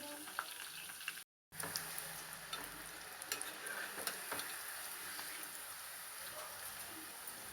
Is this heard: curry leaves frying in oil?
yes